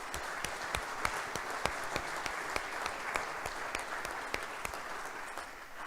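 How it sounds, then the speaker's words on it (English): A crowd applauds steadily, dense clapping with a few sharper individual claps standing out, at moderate distance and with no talking. "let's give them a round of applause"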